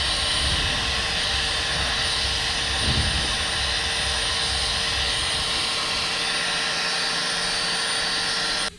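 A heat gun blows in a loud, steady broadband roar while heating vinyl wrap on a Lexus RCF front bumper, running continuously close by and cutting off at the end.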